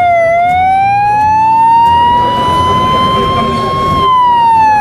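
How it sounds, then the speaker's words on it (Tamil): An ambulance siren sounds in a slow wail pattern, a loud steady tone gliding gradually up and back down, close by with rumbling engine and road noise underneath. "ஃபஸ்ட்டு வகை வந்து வெயில் அப்படின்றாங்க."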